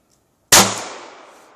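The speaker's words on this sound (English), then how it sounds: "the ammo I'm shooting right now is the Remington Thunderbolt high velocity" A single sharp shot from a Ruger SR22 pistol firing Remington Thunderbolt high velocity ammunition, a loud crack that rings out briefly in open air and then fades.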